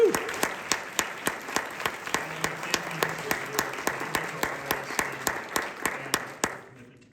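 Audience applause for candidates at a school board (RISD) candidate forum: steady, dense clapping from a room of people that runs continuously before fading out at the end, with faint voices beneath.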